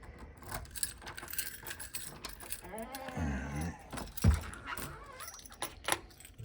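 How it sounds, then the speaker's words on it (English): Keys jangle and clink in short bursts while someone moves through a room setting up audio equipment, fairly quiet and close, with a few handling knocks in between. "Good thing I brought the keys."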